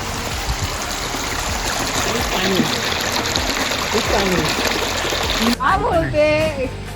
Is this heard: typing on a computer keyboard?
no